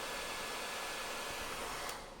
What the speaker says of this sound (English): And this hair dryer is going to let me pull off this pad.